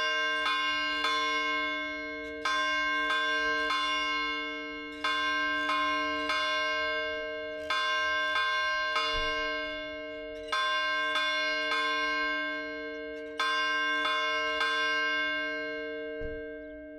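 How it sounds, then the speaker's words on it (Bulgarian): A church bell at the Church of St. Dimitar rings in slow, regular strokes roughly every two and a half seconds, each ringing tone lingering and decaying before the next strike, clear and sustained with no talk. "Кога ще биете камбаната?"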